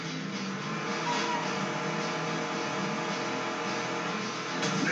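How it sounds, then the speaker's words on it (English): El Machismo, a monster truck in the Cars Race-o-Rama video game, roars with a steady, dense engine drone that holds at an even loudness throughout, broad and unbroken. "He is the monster of all monster trucks."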